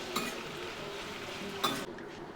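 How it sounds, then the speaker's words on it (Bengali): Finely chopped onions fry in oil until light brown with a steady, close sizzle, broken by two brief scrapes of a stirring utensil against the pan. "ব্রাউন করে পেঁয়াজটাকে আমি ভেজে নেব, একদম লাল না, হালকা ব্রাউন করব অবশ্যই।"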